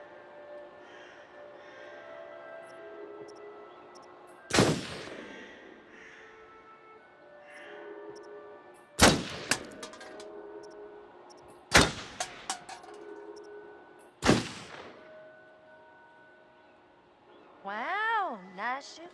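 Four sharp, loud gunshots ring out singly at a shooting range in the Until Dawn video game, spaced several seconds apart over a quiet ambient bed with faint voices.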